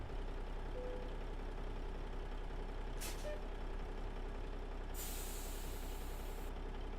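An air brake release hisses twice on a truck in American Truck Simulator, a custom Peterbilt pulling a spread-axle reefer trailer: a short burst near the middle, then a longer loud blast of air over the steady idling engine.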